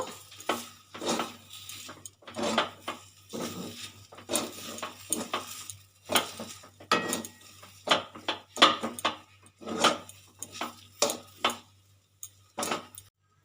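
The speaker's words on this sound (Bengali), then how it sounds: "এটা আমি দু মিনিট সুন্দর করে নেড়ে নেব" Sugar and garam masala being stirred in a pan: intermittent clinks and scrapes of a spoon against metal come in uneven bursts, close and moderately loud, with quiet gaps between.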